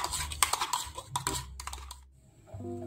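A hand whisk beats egg yolk into milk in a bowl, making quick, irregular clicks and taps nearby that fade out, followed by a low steady hum.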